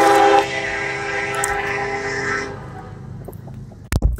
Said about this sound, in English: That train is loud this morning.